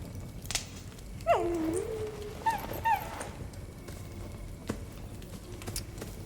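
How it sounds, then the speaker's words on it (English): A dog in a video game whimpers and yips in a few short, high whines, fairly quiet against a soft background with no talk over them. "I pet the dog."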